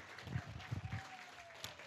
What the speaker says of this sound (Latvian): aplausi sev